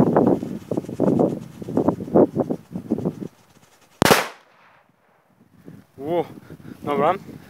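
A single sharp, loud bang from a Pyro Moravia Flash Banger PSFB001 firecracker cuts through nearby talking, its crack decaying quickly into quiet before voices resume.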